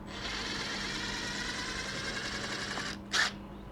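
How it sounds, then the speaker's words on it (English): A power driver whirs steadily while removing clutch spring screws on a Suzuki DRZ400 motorcycle, with one continuous close motor hum that ends in a brief louder burst. "So having a power driver helps for those."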